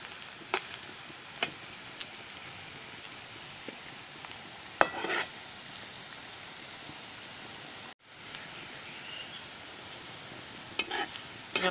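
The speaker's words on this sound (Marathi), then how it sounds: "आपला कांदा फ्राय झालेला आहे." Onion frying in a pan and being stirred, a soft steady sizzle under scattered scraping and clicking of the spoon against the pan, with a brief dropout midway and no voices.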